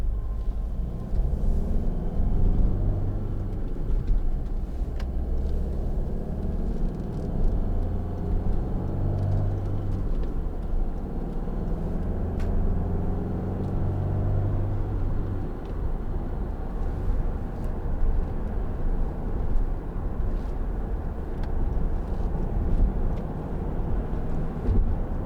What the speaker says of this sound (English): So that's round about 70 miles an hour in 6th gear.